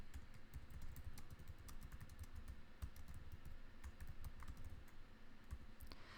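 Fingers typing on a computer keyboard, a quick, steady patter of soft key clicks at close range without a pause or any voice.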